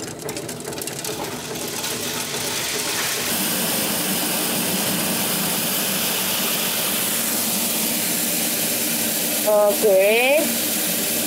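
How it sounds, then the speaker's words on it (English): An ADS grain cleaner runs with a steady mechanical whirr and rattling hiss of grain moving through it, constant and fairly loud, with a brief spoken word near the end. "now we're gonna run it through ADS cleaner"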